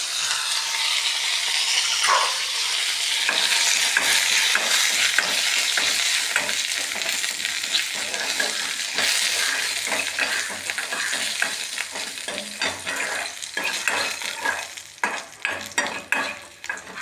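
Cumin seeds and curry leaves fry in oil over lowered heat, giving a loud, continuous close sizzle that turns into choppier stirring and scraping toward the end.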